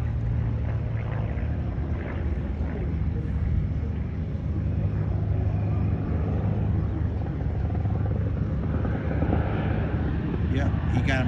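An airshow plane with its wheels down drones overhead in a steady, loud engine roar that holds throughout, while people talk over it.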